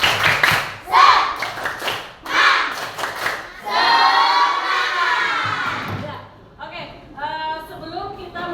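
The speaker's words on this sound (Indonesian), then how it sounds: "Tepuk semangat." A class of schoolchildren in an Indonesian classroom performs a rhythmic spirit cheer, chanting together with bursts of patterned clapping and shouts, loud and close, led by a teacher's voice.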